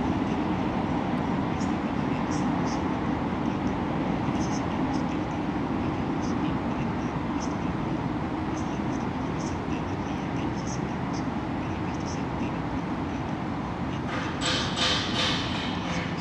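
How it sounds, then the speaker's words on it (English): Construction work on a flood protection barrier along the Manhattan waterfront, heard as a loud, steady broadband rumble of machinery that runs unbroken throughout, with faint intermittent ticks and a brief burst of higher clatter near the end. "So that construction for the flood protection barrier is just behind me."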